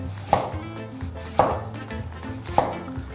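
A knife cuts sweet potatoes into thin julienne strips on a cutting board. Three evenly spaced chops land close and crisp, with quiet scraping between them.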